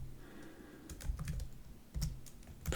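Code being typed on a computer keyboard, with bursts of key clicks that cluster into quick runs, separated by short pauses.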